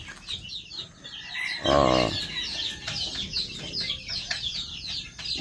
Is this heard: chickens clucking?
yes